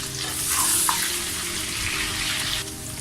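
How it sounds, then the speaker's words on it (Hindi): Mutton pieces fry loudly in a karahi with ginger garlic paste, a dense, constant sizzle and hiss close up while being stirred, with no talking. "अब मैं इसके अंदर जो है अदरक लहसुन का पेस्ट जो है वो ऐड करता हूँ। इसको भी अच्छी तरह मिक्स करते हैं।"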